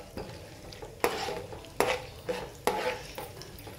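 Mustard seeds, cumin, chana dal, urad dal and garlic cloves sizzle in hot oil for a Telugu potato fry tempering, with steady frying hiss and several sharp scraping stirs of a spoon against the pan.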